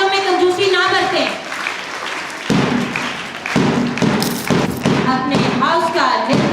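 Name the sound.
school children applauding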